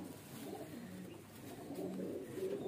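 A female highflyer pigeon coos softly, close by in a quiet setting, with low murmuring calls rising near the end.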